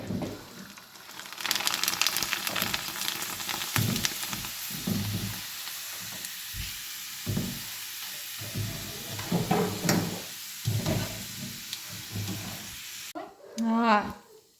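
Bhungla frying in hot oil gives a continuous crackling sizzle with scattered pops and clatters, heard close and partly under people talking nearby.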